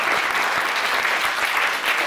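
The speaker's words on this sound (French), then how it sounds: "Évidemment que vous applaudissiez un peu mon équipe" Brief, loud burst of dense audience clapping for a stage show's crew, close and continuous with no voices over it.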